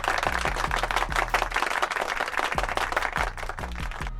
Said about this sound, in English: We're going to give this guy a round of applause.